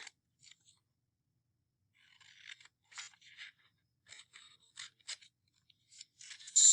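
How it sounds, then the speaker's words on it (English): Scissors cut paper along a dotted line with faint, soft snips and rustles, coming in short scattered bursts between stretches of near silence. "I'm going to cut out my 3 books, and I'm going to cut on the dotted line"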